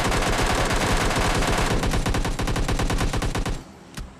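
Rapid automatic gunfire in a video game rattles loud and continuous for over three seconds, then stops abruptly, followed by a single faint shot.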